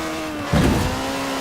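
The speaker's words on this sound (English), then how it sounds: "turbocharged Ford Cosworth BDT engine and all-wheel drive, the RS 200 had perhaps the best suspension platform of any car of its era" A Ford RS200 with a turbocharged Cosworth BDT engine and all-wheel drive revs in Forza Horizon 4, a steady engine drone swelling into a brief louder surge midway, then settling back.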